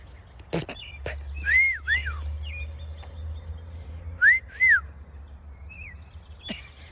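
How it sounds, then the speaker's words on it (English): A parrot gives two pairs of rising-and-falling whistles outdoors, separated by a pause, over a low background rumble and a few faint chirps. "the neighbors have a parrot. And it's outside. And it whistled."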